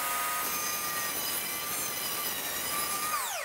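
A table saw rips a narrow strip from a small 1x6 board, a loud, sustained, steady whine with a hiss of cutting throughout, the blade pitch dropping as it winds down at the very end.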